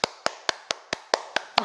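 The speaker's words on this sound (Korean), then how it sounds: "박수 소리 너무 큰가?" Audience clapping at the start of a Korean talk, heard as eight crisp, evenly spaced claps in quick unison, loud and close with silence between each.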